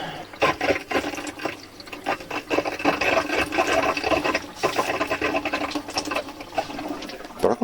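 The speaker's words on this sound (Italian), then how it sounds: "Però continua ad arrivare acqua" Water flowing and spurting from a DIY heated expansion vessel under too much pressure, a loud, busy gushing and sputtering that keeps going with irregular bursts and no talk.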